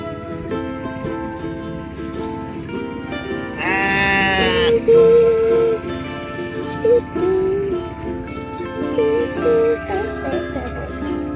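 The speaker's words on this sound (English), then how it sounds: "A group of adorable sheep." Sheep on a farm let out one drawn-out bleat and a few shorter calls, heard over continuous cheerful background music.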